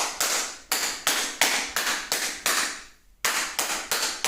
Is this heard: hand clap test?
yes